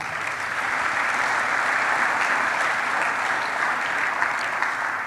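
Steady applause from a church congregation during a French-language worship service, a dense, even wash of clapping sustained for several seconds with no voices.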